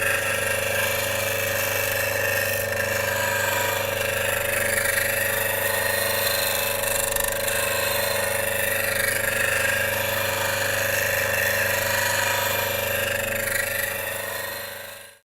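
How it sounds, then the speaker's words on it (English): A Tormek sharpening wheel grinds a Glenn Lucas woodturning tool with a steady, continuous whirring hum that holds evenly before fading out at the end. "So we're all set to sharpen."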